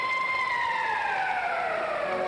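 Period-end siren in an ice hockey arena at a 1976 Canada Cup game between Sweden and the USSR, a loud sustained wailing tone slowly falling in pitch over crowd noise.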